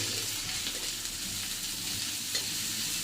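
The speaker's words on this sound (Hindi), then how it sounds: "तेल पकईकि पियाज एवं तेजपत्र भाजुचु।" Sliced onion and bay leaf frying in hot oil make a steady, close, continuous sizzle with no pauses.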